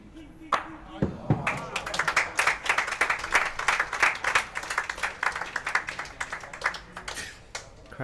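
A crowd at an indoor junior world bowls championship breaks into applause after a shot, a dense patter of clapping that swells and then tapers over several seconds, with a voice talking briefly near the start.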